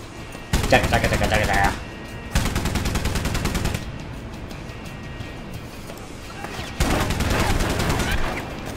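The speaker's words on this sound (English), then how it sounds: "why is the shootout so long and intense and drawn out?" Video game shootout with rapid automatic gunfire: dense bursts of shots, each lasting a second or more, separated by short lulls with quieter scattered fire, loud and close throughout.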